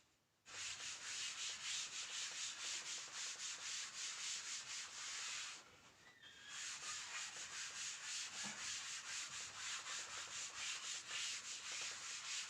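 Steady rapid rubbing strokes on a board during a handwritten physics derivation, a dense close scratchy swish that runs continuously, pauses briefly midway, then resumes with no talking.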